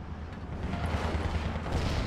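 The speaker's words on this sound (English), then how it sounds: "There's two mortars here, there's two mortar there, there's another mortar coming in." A steady, dense rumble of distant mortar and artillery fire rolls through a video game battle, continuous and booming without a break.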